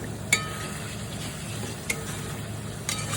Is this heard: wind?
no